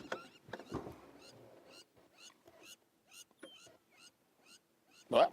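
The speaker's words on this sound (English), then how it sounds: "we do have some crowned lapwings making noise" Crowned lapwings call at sunrise in the Sabi Sand bush, South Africa. Short, sharp, repeated cries come at irregular intervals, mostly faint and fairly distant, with a louder burst at the end.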